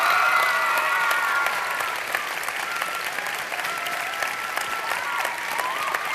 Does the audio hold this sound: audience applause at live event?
yes